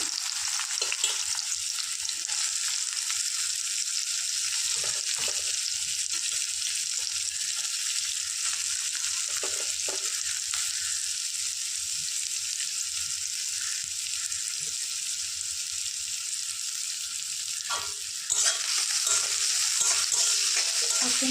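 Soybean curry with chopped onion greens fries in a pan, a steady broadband sizzle running throughout with occasional stirring scrapes, growing slightly louder near the end; no voices.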